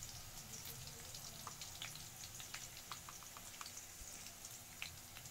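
Mustard seeds and chopped green chillies with garlic sizzling in hot oil, a faint steady frying hiss with scattered small pops and crackles, no talk.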